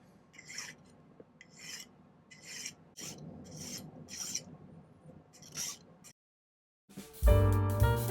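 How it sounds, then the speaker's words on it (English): A metal file smoothing the solder joint on a handmade silver ring, a series of close rhythmic rasping strokes, followed after a brief silence by a louder, harsher grinding burst. "I'm going to do a little cleaning up with the file, so my solder joint is no longer visible."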